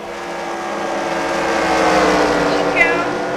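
Stock car racing video game at Richmond, National Guard 400: a steady, swelling roar of many engines under green-flag racing, with a brief high tire squeal near the end and a commentator's voice over the top.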